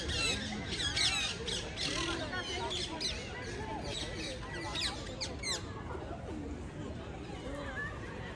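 Wild parakeets being hand-fed in a London park squawk harshly and repeatedly close by, with pigeons around and faint voices mixed into the busy outdoor chatter.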